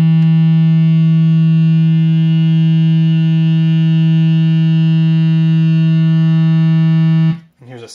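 A BMC59 multi-PWM synthesizer oscillator modulated by a ramp wave holds one loud, buzzy, harmonically rich tone for about seven seconds before it cuts off abruptly.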